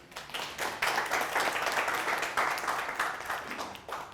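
A workshop audience breaks into steady, dense clapping that swells quickly and holds at a full level for several seconds before easing slightly at the end.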